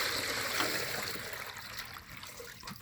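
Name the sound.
bilge pump draining a 3-gallon bucket of water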